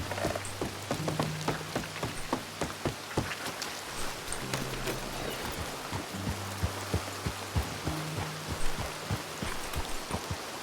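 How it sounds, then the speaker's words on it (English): Rain in the Red Dead Redemption 2 western game, a steady hiss of falling water with irregular droplet taps and patters on surfaces, moderately loud and continuous. "So much for our luck with the rain."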